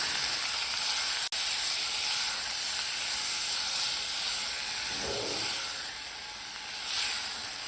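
Masala-coated chicken sizzles steadily in hot oil inside a covered pan, a continuous close hiss with slight swells and a brief dip partway through.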